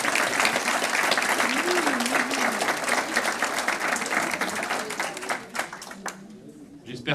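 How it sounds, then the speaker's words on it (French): An audience applauds new employees at a company meeting, steady indoor clapping that fills the room and then thins out and fades toward the end, with some voices mixed in. "On peut les applaudir effectivement."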